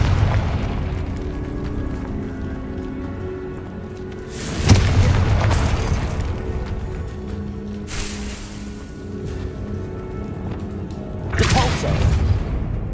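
Booming Confringo curse explosions from the Hogwarts Legacy video game, three heavy blasts spaced several seconds apart over a constant low rumble, each a loud broadband burst that slowly dies away.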